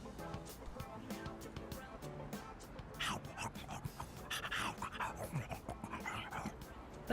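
A stray dog in the video game Persona 3 Reload whimpers and pants faintly in breathy, uneven bursts, quiet under a low background.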